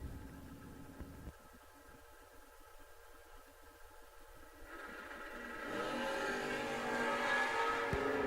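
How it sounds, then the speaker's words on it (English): Drag racing cars, a Chevrolet Nova and a Camaro, heard from a distance at an outdoor no-box drag strip event: a low engine rumble that swells into a broader roaring rush toward the end. "And Jordan Wilhelm. Out of Indiana, the Camaro dialed 634 right side."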